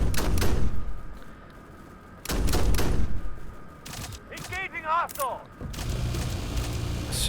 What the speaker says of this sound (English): We can also use the rockets, but we need to be careful because we could kill some of our own troops